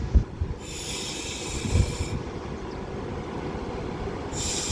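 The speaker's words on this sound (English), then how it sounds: "this 390 Pendolino now arrives into Crewe with the 1413 Avanti West Coast service to Manchester Piccadilly" A Class 390 Pendolino on an Avanti West Coast service arrives into Crewe station, a steady close rumble of the train rolling in with bursts of high hissing from brakes or air, no talk.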